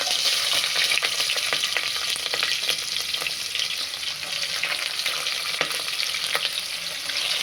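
Green chillies and onions frying in a hot pan, a continuous close sizzle with bright crackles and occasional stirring scrapes, no voices.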